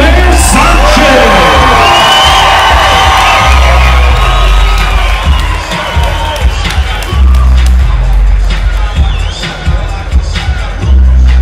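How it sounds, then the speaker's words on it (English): Fight-night arena crowd roars with cheering, whoops and yells, loud and sustained with bursts of shouting and scattered clapping, while an announcer's voice carries over the noise. "how about a big round of applause for Diego Nightmare Sanchez."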